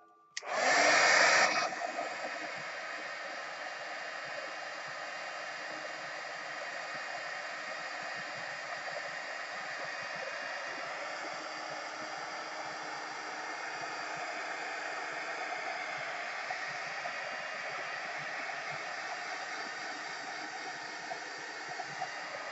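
A hair dryer roars as it dries paint on an art journal page, switching on with a loud burst and then holding a steady, even whoosh of blowing air for over twenty seconds.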